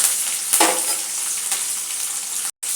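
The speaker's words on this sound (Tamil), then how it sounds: "வெங்காயத்தை நல்லா வதக்கி விடலாம்." Small onions and curry leaves sauté in hot oil for drumstick sambar, a steady close sizzle with a brief stir clatter near the start, then a short cut to silence near the end.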